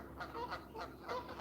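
A group of ducks honks close by, giving several quick, nasal calls in a rapid series.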